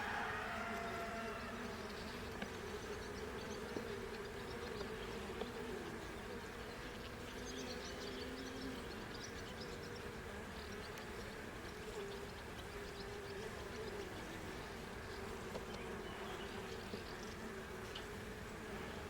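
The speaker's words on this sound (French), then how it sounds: "Les abeilles sont calmes." A dense, steady hum of honeybees inside a hive drones continuously at moderate loudness, with no voices present.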